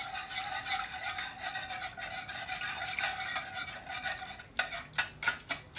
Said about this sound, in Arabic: نخلط كل شيء